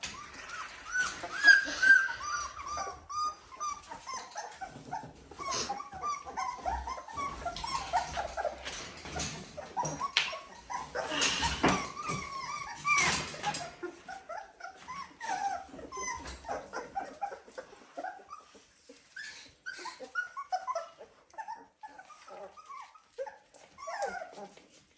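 Seventeen-day-old Dalmatian puppies whimper and yip in a busy overlapping chorus of high, thin cries, close by and fairly soft, easing a little toward the end.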